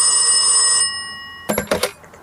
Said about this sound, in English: right on cue, the phone rang.